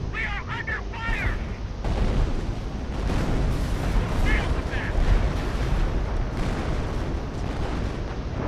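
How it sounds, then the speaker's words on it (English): Artillery shelling barrage in the World War II strategy game Company of Heroes, a dense, continuous roar of booms and blasts throughout, with some chirpy effects early on and a voice speaking over it. "let's start shelling our enemies together"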